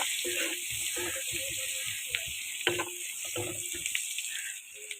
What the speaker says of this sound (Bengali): এটা ভেজে নেব ভালো করে।